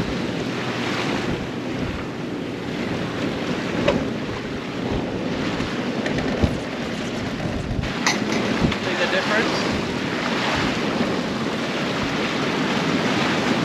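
Wind and water rushing around a sailboat with poorly trimmed sail, a continuous loud roar of breeze and sea over which the slack sail flaps; a person speaks briefly.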